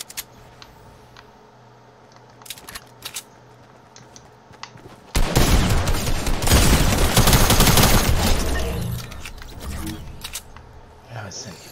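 Fortnite sniper rifle gunfire: after a quiet stretch of soft clicks and light game sounds, a loud, close blast of gunfire erupts partway through and rumbles on for a few seconds before fading away.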